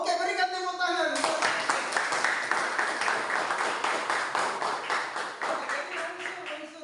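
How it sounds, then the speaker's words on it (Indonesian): Classroom audience applause at a school lesson on short-story elements, dense broadband clapping that starts abruptly after a voice and continues steadily throughout, close and fairly loud. "Oke, berikan tepuk tangan."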